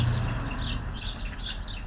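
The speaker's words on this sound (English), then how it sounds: "Can you see the birds back there fighting?" Birds chirp and squabble behind a deserted warehouse, high thin tweets over a low steady background rumble, a couple of brief sharp calls standing out.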